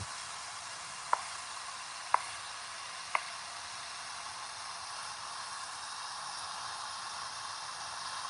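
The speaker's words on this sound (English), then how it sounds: "then you're gonna see how I'm gonna be frying." Hanger steak fries in a pan with a faint, steady sizzling hiss, broken by three light clicks early on.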